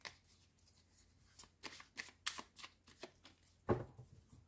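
Tarot cards are shuffled by hand close by, with a run of quick, crisp riffling flicks ending in a sharp tap, and only a hint of voice.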